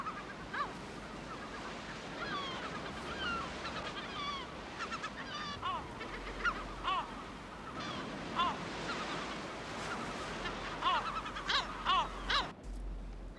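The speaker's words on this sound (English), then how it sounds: "the island's tranquility is broken by the constant squabbling of the gulls as they argue over nest sites" Gulls squabble over nest sites in dense vegetation on Lundy island, their repeated harsh, honking calls rising in scattered bursts over a steady wash of surf and wind.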